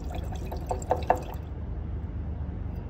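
96% alcohol poured into water makes a soft trickle and a few quiet drips lasting about a second, then only faint room noise.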